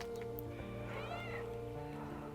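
A six-week-old kitten and its mother cat are close by. One cat gives a soft, drawn-out meow over a low steady hum, with no talk.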